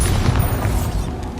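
A Bombarda explosion spell in the Hogwarts Legacy video game lands as a heavy, close, low boom, sustained and rumbling for over a second with no gaps.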